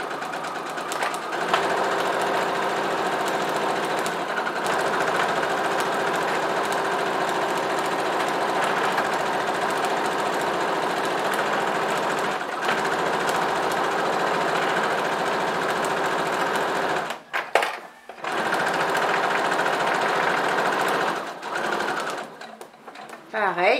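A sewing machine runs steadily while stitching a fabric pencil roll, with a humming motor and rapid needle rhythm, pausing briefly near the end as a voice talks over it.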